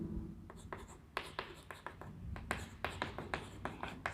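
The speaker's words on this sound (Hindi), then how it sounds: "यहाँ पे लिख देता हूँ" Writing on a board during a classroom lecture: a steady series of short scratchy strokes and taps, close and fairly faint, with no talk over them.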